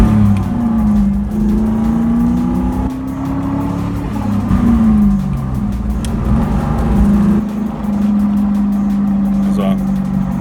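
A 1996 Ford Mustang Cobra fitted with SVO sidepipes idles and revs steadily, its deep throaty exhaust rising and falling in pitch, loud and close throughout.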